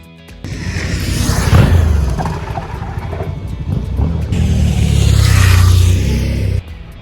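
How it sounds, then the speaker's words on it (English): A Suzuki V-Strom 1050 DE adventure motorcycle accelerating hard past the listener, its engine note rising through two loud, close surges with wind rush before cutting off. "the V-Strom now accelerates a far lot better than it did back in 2022"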